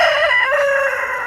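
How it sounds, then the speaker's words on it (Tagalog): A single rooster crows loud and close, one drawn-out call that fades slightly at the end. "mga umiiyak na manok"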